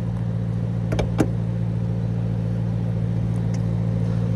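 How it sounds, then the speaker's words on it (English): A 2010 Maserati GranTurismo Convertible with a Ferrari-built engine runs at a steady, low idle, a constant rumble with a few faint clicks over it. "And that amazing Ferrari motor."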